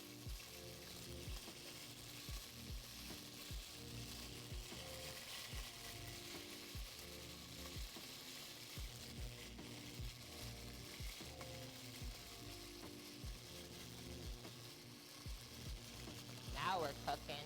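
Chunks of pork sizzle steadily in hot oil, a dense continuous crackle and spit with faint rhythmic clicks throughout, close and even in level.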